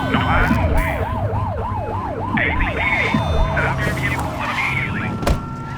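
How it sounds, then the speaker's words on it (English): A police car siren in the video game The Precinct wails in a fast, rising and falling cycle, loud and close, over engine rumble. Brief radio chatter cuts in near the end. "Get behind them and flip the siren to make them pull over."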